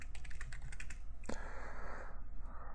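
Rapid clicking keystrokes on a computer keyboard, close and fairly quiet, tapping in a quick irregular run before trailing off, with no voices.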